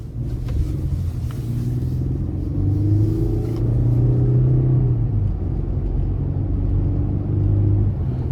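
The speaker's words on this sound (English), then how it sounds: "take this Colorado ZR2 Bison out on the road for a quick test drive" Steady low engine rumble from inside a 2022 Chevrolet Colorado ZR2 Bison pickup truck moving along the road, with a smooth hum and mild rises in revs, no talking.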